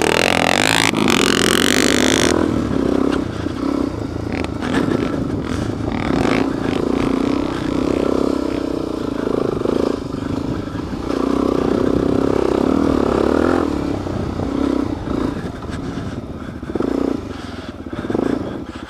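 Dirt bike ridden through soft sand in New Mexico, engine droning steadily and loud throughout, with scraping and clatter from the bike and terrain.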